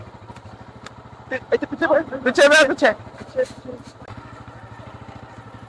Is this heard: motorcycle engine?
yes